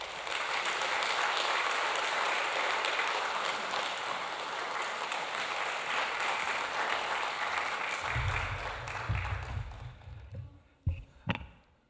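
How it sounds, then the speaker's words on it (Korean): A church congregation gives warm, sustained applause to welcome a pastor, a dense steady wash of clapping that fades out near the end, followed by a few isolated knocks and thumps. "우리가 따뜻한 환영의 박수로 맞이하도록 하겠습니다"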